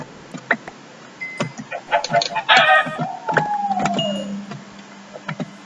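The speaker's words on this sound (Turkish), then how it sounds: "Evet tavuk gördük. Şuna hemen tavukları öldürelim." Chickens in Minecraft cluck and squawk near a forest, a string of short, sharp bird calls with a rising, drawn-out crow in the middle, fairly close and alone.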